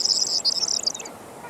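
A corn bunting sings a short, jangling, high-pitched trill on open farmland, clear and fairly close for about a second before fading into quiet outdoor air.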